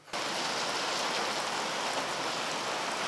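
Heavy rain pours steadily in a dense, even hiss along a hiking trail, close and constant after a sudden start, with no talking.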